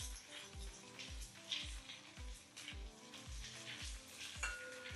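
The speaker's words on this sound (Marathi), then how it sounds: "आणि ही फक्त जरा परतून घ्यायची छानपैकी" Boiled eggs coated in salt and masala for Maharashtrian egg curry sizzle in a hot kadhai, with a regular rhythm of about eight spoon strokes scraping the pan as they are stirred, close and clear.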